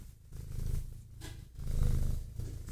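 Domestic cat purring close up, a low, steady rumbling that swells and fades with each breath in a continuous rhythmic cycle, with no talking.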